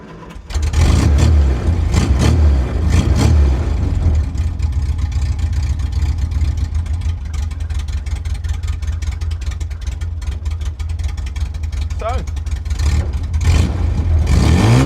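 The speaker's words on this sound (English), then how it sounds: "We have an engine that runs." An old Austin A60 engine cranks and catches, then settles into a loud, steady rumble with a few revs rising and falling, running on its own throughout.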